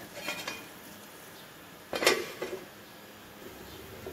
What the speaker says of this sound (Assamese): এয়া মই পানী দি পেলাই ভালদৰে ইয়াক ঢাকি থৈ দিছোঁ।